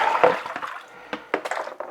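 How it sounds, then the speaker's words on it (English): Water sloshes and pours in a tray as the wash water is changed for a cyanotype print, with splashes followed by quieter trickles and a few sharp liquid bursts, close by and without talk. "I'm going to do a change of water here"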